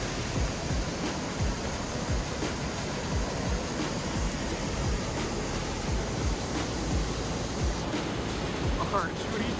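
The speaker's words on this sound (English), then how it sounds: "this was the waterfall right down by the campground." Steady, continuous rush of a waterfall near an Ozarks campground, a dense broadband roar that stays even throughout, with no speech.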